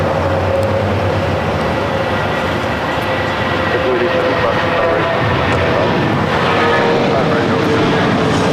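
An Air China cargo Boeing 747-400 takes off at a busy airport, a steady, heavy engine roar holding loud and constant throughout, with faint voices and other airport sounds mixed in.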